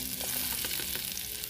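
Chopped onions sizzle in hot oil in a pan while a stir-fry of banana blossom is cooked outdoors; the frying is a continuous crackling hiss with small pops and stirring scrapes, close up.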